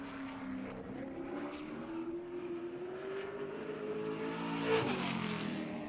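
The engine of race car number 71 drones on a lap around the Jefferson oval at the season opener. It holds a steady pitch that gradually rises, then swells louder as the car passes close near the end.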